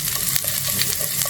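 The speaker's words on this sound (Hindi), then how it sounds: "इसको हल्का सा सौते कर लेते हैं।" Finely chopped onion and garlic sautéing in a hot pan, a steady close sizzle with faint stirring scrapes, with no voice.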